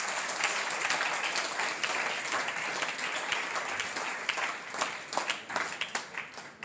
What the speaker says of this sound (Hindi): इस उत्सव के लिए एक बार तालियों का महोत्सव होना चाहिए।